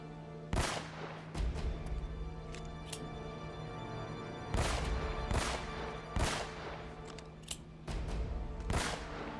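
Gunfire in Uncharted: Drake's Fortune, a firefight with several sharp shots or short bursts spread across the span over a steady low game hum, with no talk.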